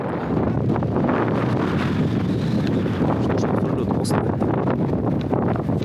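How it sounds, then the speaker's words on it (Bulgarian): Strong wind roars steadily across the microphone, a constant heavy buffeting rush with faint rustling, loud and unbroken throughout. "Какъв е този вятър, е!"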